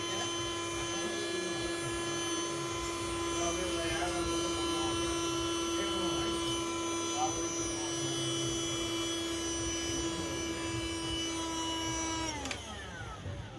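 A repaired mini vacuum cleaner motor runs continuously with a steady high whine and a constant hum. It stays close and even throughout, then shifts and winds down slightly near the end.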